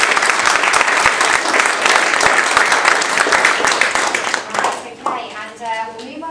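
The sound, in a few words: applause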